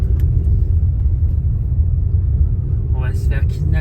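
A car rolls slowly along narrow jungle roads in Mexico, its steady low engine and road rumble filling the whole stretch, with a few brief higher scrapes or clatters near the end.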